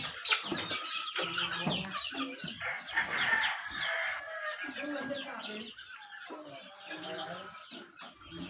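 Chickens on a gamefarm cluck and crow in an indoor brooder, a busy overlapping chorus of clucks with rooster crows, fairly close, with a little talk in the background.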